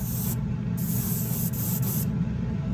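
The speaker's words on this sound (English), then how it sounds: "I love airbrushing" An airbrush sprays primer and paint in a continuous close hiss, cutting off briefly in short pauses between bursts, with no talking.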